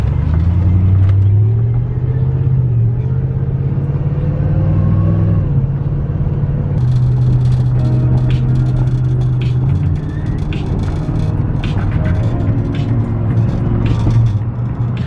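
A BMW E34 540i drives along, its engine droning loud and close with a deep steady hum, pitch climbing and shifting through gear changes, then settling into a rougher cruising rumble.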